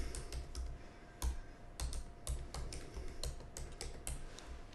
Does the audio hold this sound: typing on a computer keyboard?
yes